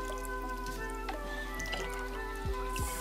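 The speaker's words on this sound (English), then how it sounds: "I just fill up an old fly spray bottle with water" Water splashes and drips steadily into an old fly spray bottle in a barn, over a faint background hum, with a couple of louder liquid squirts near the end.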